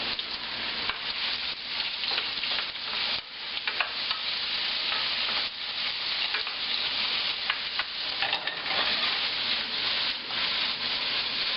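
Vegetables for caponata frying in oil, a dense continuous sizzle with rhythmic stirring scrapes running steadily throughout, close and fairly loud.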